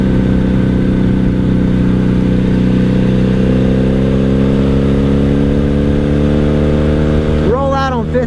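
A 1997 Honda Magna VF750C V4 cruiser with a Vance and Hines exhaust rolls along in fifth gear on a cold road. The exhaust drones steadily and loudly as the engine climbs in pitch, with wind rush, and a brief shift near the end.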